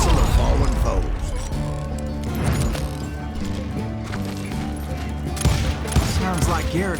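Rapid gunfire from hired gunmen in the Western shooter Call of Juarez: Gunslinger, a loud bursting barrage of shots mixed with game music and clattering effects, with a voice talking over parts of it.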